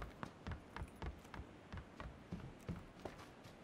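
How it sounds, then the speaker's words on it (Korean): Quiet, rapid footsteps thud in an even rhythm in PlayerUnknown's Battlegrounds, a faint run of soft steps heard alone for a few seconds. "저 발소리 들리지?"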